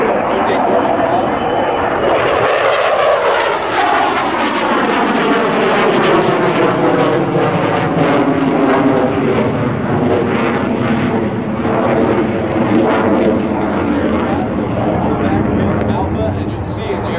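An F/A-18F Super Hornet jet roars through a vertical pirouette at a military open house air show, a loud, sustained engine roar that sweeps and shifts in pitch, with an announcer talking over it.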